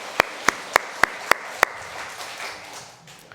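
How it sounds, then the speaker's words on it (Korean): A church congregation at a Sunday morning service claps in unison, six sharp, evenly spaced claps in a steady rhythm, then the hall falls to a quiet murmur of room tone. "한 번 더 하나님께 영광의 박수."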